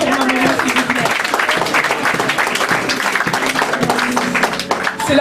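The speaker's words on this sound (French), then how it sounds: "Est-ce que vous pouvez applaudir pour ma maman, s'il vous plaît?" An audience claps steadily, a full, close round of applause with some voices mixed in, holding at an even level throughout.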